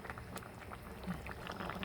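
A pot bubbles steadily at a low simmer, soft popping and gurgling continuing without pause, close up.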